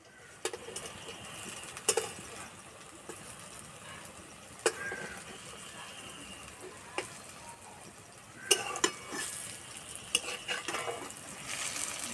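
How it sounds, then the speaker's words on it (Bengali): Papaya pakoda batter frying slowly in hot oil in a home kitchen, a faint soft sizzle with occasional sharp stirring clinks and scrapes. "আস্তে আস্তে জাল দেবো ভাজবো"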